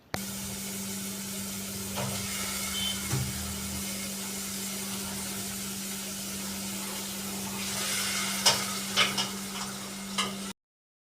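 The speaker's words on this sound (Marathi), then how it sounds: "इथे मी ग्रेव्हीला फोडणी देत होते" Spices tempering in hot oil for a gravy in a home kitchen, heard as a steady close frying hiss with a constant hum beneath, stirring clinks and a few sharper pops and sizzles near the end.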